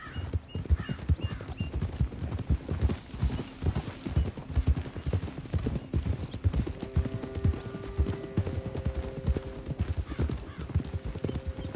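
Steady clip-clop of horse hooves on a trail in Red Dead Redemption 2, rhythmic and close, with a horse whinnying briefly amid the hoofbeats and faint game ambience.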